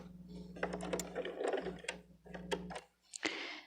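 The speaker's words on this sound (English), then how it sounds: "Don't forget to backstitch at the end." A sewing machine hums and rattles through a short run of stitches at the end of a seam, with a low motor drone, then pauses and gives a final sharp clack.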